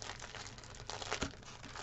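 Plastic bags of diamond painting drills crinkle faintly nearby in a steady, soft rustle with a few sharper crackles and no talking over it.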